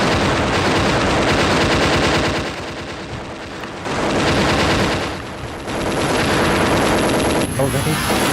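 Shooting and explosions in a CD-i video game, continuous loud rapid machine-gun fire with blasts layered over it, dipping briefly twice before resuming.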